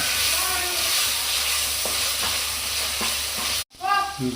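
Tomatoes and curry leaves sautéing in a pan with a steady loud sizzle and periodic stirring scrapes, then a sharp cut before the frying picks up again, with no voices.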